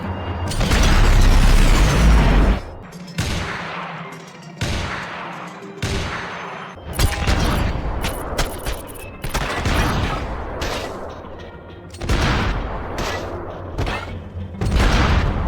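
Sniper rifle gunfire in the video game Max Payne 3: a loud opening barrage, then a string of heavy, booming shots spaced a second or two apart, each trailing into an echoing rumble.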